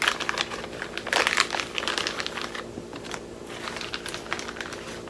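Crinkling and rustling of packaging being torn open and handled, a parcel sent from Russia, loud and close in uneven bursts with no talking.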